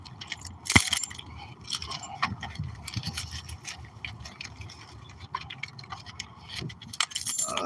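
Keys jangle and clink in short, scattered bursts, faint and close, among small rustling and scraping handling noises with no talk.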